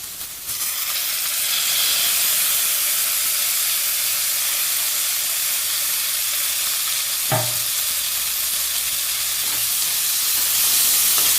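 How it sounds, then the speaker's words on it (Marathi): Soaked moong dal tipped into hot oil tempered with asafoetida and turmeric, giving a loud continuous hissing sizzle, with a brief clunk of stirring partway through. "अर्धा चमचा हिंग आणि अर्धा चमचा हळद त्याचबरोबर टाकते मी भिजवलेली मुगाची डाळ"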